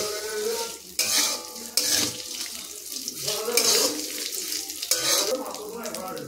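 Cashews, almonds and raisins fry with vermicelli in a pan, a close, steady sizzle broken by several sharp scraping stirs at irregular intervals.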